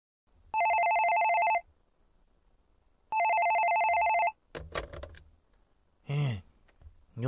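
A telephone rings in two long electronic bursts for a prank-call comedy parody, followed by a clatter and short muffled sounds like a handset being picked up.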